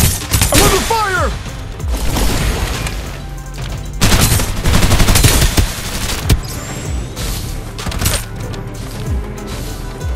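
Heavy gunfire in the battle royale game Farlight 84 during a solo-versus-squad fight: loud bursts of rapid automatic shots and booming impacts, with bursts and pauses across the whole stretch.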